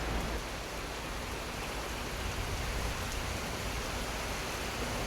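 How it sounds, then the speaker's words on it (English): Heavy rain falls on a house with a badly leaking, tarp-covered roof, a continuous dense hiss of downpour held at a steady, fairly quiet level throughout, with no voices. "And now it's raining like you wouldn't believe."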